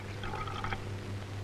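Water pours steadily into a tumbler for a moment, a soft continuous trickle with a low hum underneath and no talking.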